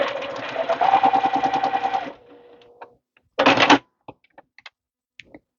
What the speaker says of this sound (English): what I'm using is my Juki, what is it, TL18QVP. And right now I'm just sewing 1/4 of an inch.